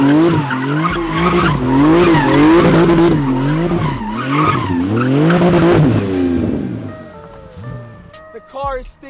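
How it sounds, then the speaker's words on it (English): A race car launches hard, its tires slipping and squealing on the pavement while the engine roars and climbs through the revs, loud and close, then eases away as the squeal fades. "He's slipping a bit. He has to warm up these tires a bit more."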